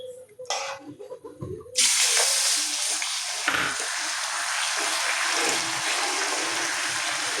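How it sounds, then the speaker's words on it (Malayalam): Water poured into a hot pan of roasted vermicelli for semiya payasam, a loud sudden hiss and sizzle that bursts in after a few quiet clinks and stays strong and steady to the end. "അപ്പോൾ ഞാൻ തീ കുറച്ചിട്ട് വെള്ളം ഒഴിക്കട്ടെ."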